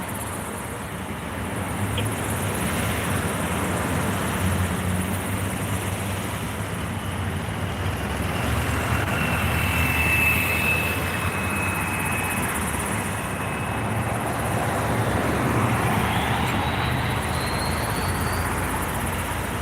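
Continuous engine drone of a medical helicopter landed on a highway, steady and moderately loud, with a faint whine rising partway through; no talking.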